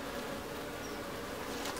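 Honey bees buzz steadily at a hive while brood frames are checked before the honey flow, a dense continuous drone that holds even and close throughout with no talk.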